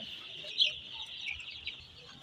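Tiger chickens cluck and chirp softly in a brief, busy mix of bird calls, steady and fairly faint.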